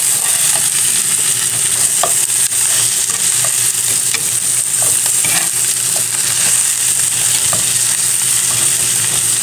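Food seasoned with pepper sizzles loudly as it fries in a pan and is stirred and turned, with a steady hiss broken by small scraping clicks from the utensil, and no talking.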